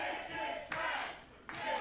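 A wrestling crowd at the Monster Factory chants in unison during a Nick Battee vs Ty Awesome match, with loud, rhythmic shouted bursts that rise and fall every few beats.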